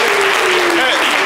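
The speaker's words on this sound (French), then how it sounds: "Amad Diallo, on peut l'applaudir très fort." Audience applause at a live Ivorian quiz-style variety show, a brief dense burst of clapping with a voice talking over it.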